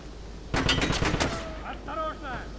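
Rapid bursts of enemy gunfire in the shooter game Wolfenstein, a loud cluster of shots for about a second, then fainter metallic sound effects trailing off.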